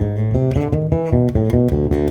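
Electric bass plays a fast phrase, a quick run of distinct, punchy notes with position shifts, played loud and alone in an even, driving rhythm.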